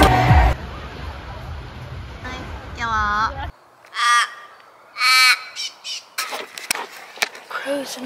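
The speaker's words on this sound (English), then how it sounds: "Crows in Australia kind of cry different than in Japan." Crows cawing in Perth, Australia, with several loud drawn-out caws close by, separated by short pauses, over light outdoor background noise.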